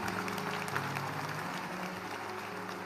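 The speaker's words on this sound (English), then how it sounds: "Let's clap our hands and give it up for." Audience clapping at a youth conference event, a continuous dense patter of many hands, soft and somewhat distant, steady for the whole stretch.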